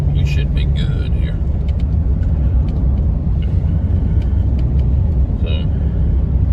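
A 2003 Chevy Silverado truck with a throttle position sensor fault rolls along under way, its steady low engine and road rumble continuous throughout, with faint voices and a brief hiss partway through.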